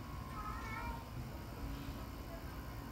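A hoarse stray kitten meowing outdoors, a few raspy cries under fairly constant low background noise, with people talking nearby.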